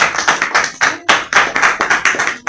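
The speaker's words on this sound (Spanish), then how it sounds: "Aplausos." An audience at a gathering in Cologne, Germany claps in close, loud bursts, a handful of hands beating in a quick rhythm with brief pauses between flurries.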